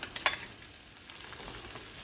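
Reuben sandwich buns sizzling on a hot griddle, a faint, steady crackle and hiss with a few sharp pops near the start, heard alone without talk.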